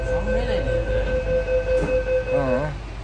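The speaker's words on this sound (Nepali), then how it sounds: "हेर पनि कति फास्ट जाँदो रहेछ अब यो ट्रेन." A Sydney Metro train passing fast, a loud close rumble with squealing wheels and pulsing whooshes, accompanied by a steady electric whine and chatter from people nearby.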